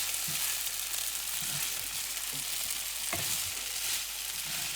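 Pasta frying in sunflower oil gives a steady, close sizzle, with a few soft stirring knocks scattered through it and no talking.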